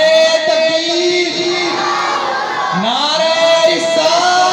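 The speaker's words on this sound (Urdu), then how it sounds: "کیجیے نعروں سے استقبال کیجیے، نعرے تکبیر" A crowd at a religious gathering with Quran recitation chants slogans back in unison, a loud sustained collective shout that rises and falls over several seconds.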